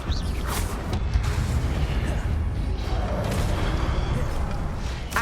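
The Confringo explosive spell from Hogwarts Legacy on Nintendo Switch, a blast of booming, rumbling game noise that stays loud and dense throughout the clip with faint bursts layered on top.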